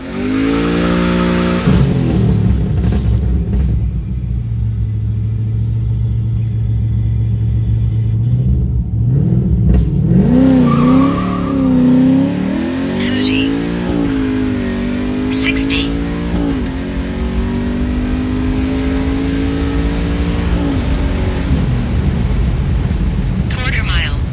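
A drag racing car at 304 Motorsports Park starts and runs loudly up close, a deep rumbling idle swelling into repeated revs whose pitch climbs and drops, alongside a sustained drone.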